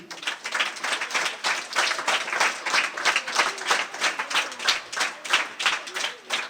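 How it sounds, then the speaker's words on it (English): Students give a round of applause for their teachers at a school gathering. The clapping from the crowd is steady and fairly dense, with regular swells, heard alone throughout. "giving a lofty round of applause to your teachers"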